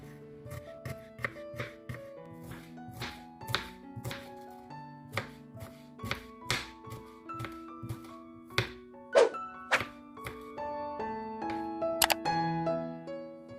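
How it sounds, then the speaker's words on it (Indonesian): A knife thinly slices seven shallots on a cutting board, producing a steady series of crisp, close chopping thunks at an even pace, with no talking. "Bawang merah 7 butir kita iris tipis seperti ini."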